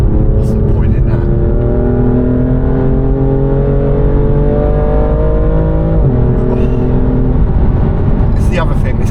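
BMW F82 M4 Competition engine and exhaust held loud and close at steady revs, a rising drone with a brief dip near six seconds, while a person talks over it throughout.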